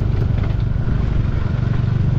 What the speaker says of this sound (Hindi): ये देखो आगे वाली जो बाइक है ना, डिस्कवर है, डिस्कवर